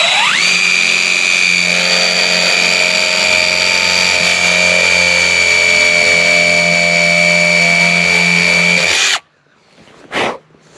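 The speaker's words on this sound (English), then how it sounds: "Probably drill like one or two right in this board." A power drill whines steadily at high speed while boring into a wooden board, loud and close for about nine seconds before stopping, followed by a brief short burst.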